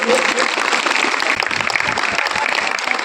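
Crowd applause at a farewell ceremony for a school principal at a government inter college, dense continuous clapping throughout, loud and close, with talk mixed in.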